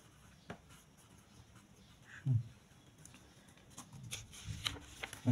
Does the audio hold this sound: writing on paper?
yes